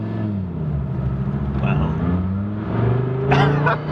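A 2002 Dodge Viper Final Edition engine with an upgraded aftermarket exhaust revs with a deep, throaty note, rising in pitch and swelling toward the end, while a person speaks briefly over it.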